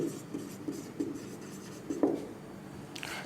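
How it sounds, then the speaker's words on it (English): Chalk or marker writing on a classroom board during a physics lesson, a series of soft scratchy strokes in an irregular rhythm, fairly close and moderately loud with no talking. "That is I am writing here"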